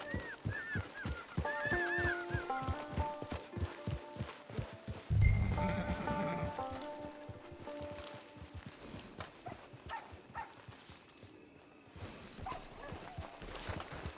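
Horse hooves clip-clop in the Red Dead Redemption 2 video game, a steady rhythmic trot in the first few seconds under game dialogue and background score, then fading beneath voices and ambience.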